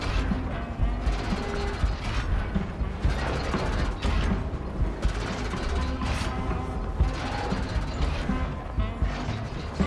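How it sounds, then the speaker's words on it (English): Gears grinding and clock hands spinning in South of Midnight, a dense continuous mechanical clatter of ratcheting and creaking with repeated heavier clanks, loud and steady throughout, with faint talk underneath. "The gears grind, the hands spin, time starts and starts again."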